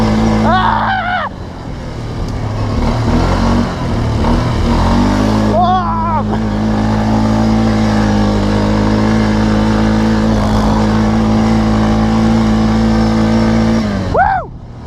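A 1999 Kawasaki Prairie 300 ATV engine, prone to flooding, revs loud and close, holding a steady high drone with a few throttle surges while people shout over it.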